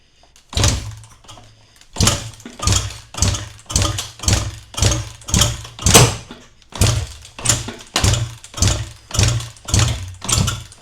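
Kawasaki KX450F 450 dirt bike being kicked over repeatedly on brake cleaner, a dozen loud rhythmic kick strokes each giving a short sputtering engine turnover, evenly spaced, with no voices.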